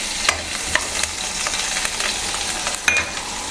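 Onions and curry leaves frying in oil for a tempering for chicken stew, giving a steady bright hiss and crackle punctuated by occasional clicks of a spoon against the pan.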